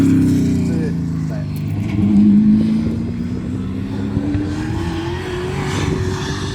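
Race cars at Levels Raceway in South Canterbury accelerate out of a hairpin, a steady loud engine drone rising in pitch as they pull away. A commentator talks over the engines.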